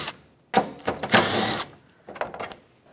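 Power tool driving out 13 mm bolts on a 2007-2014 Chevrolet Silverado 2500 HD tailgate, heard as short bursts of whirring close by, separated by brief silences.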